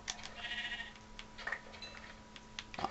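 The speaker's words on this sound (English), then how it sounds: "I'm gonna have to kill you, sheep." Sheep bleat in the Minecraft video game, a few soft, wavering calls spread across a quiet moment with no talk over them.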